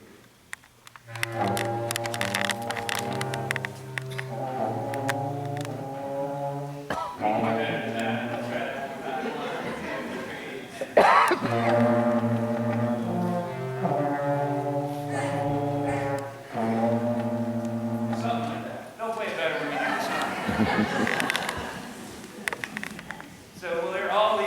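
A low brass section of an army band plays the Russian national anthem in slow, sustained chords, full and close, with the phrases rising and falling.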